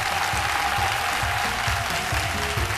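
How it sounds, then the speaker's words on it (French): A studio audience on a midday television show applauds loudly to welcome a student guest, with dense, continuous clapping and a low murmur of voices underneath. "Je vous demande de l'applaudir"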